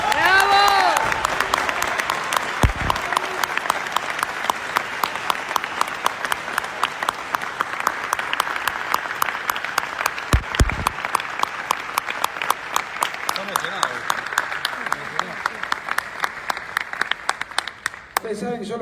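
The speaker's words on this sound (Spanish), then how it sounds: "otro aplauso para Agustín" A studio podcast audience breaks into sustained applause lasting nearly twenty seconds, dense and steady, with cheering voices mixed in and a few brief low thumps.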